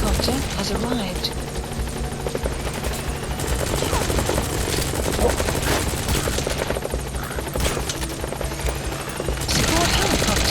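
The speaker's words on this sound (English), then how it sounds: "Support helicopter has arrived." The support helicopter in Metal Gear Solid V thrums steadily and close, its rotor chop and engine drone continuous and fairly loud throughout, with game sounds layered over it.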